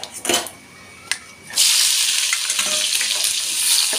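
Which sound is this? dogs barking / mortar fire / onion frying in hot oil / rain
onion frying in hot oil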